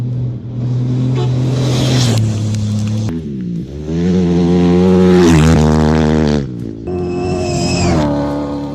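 Dakar 2020 rally vehicles race past on a Saudi Arabian desert stage, engines screaming loud and close as they rev up and down through gear changes, with separate passes fading in and out.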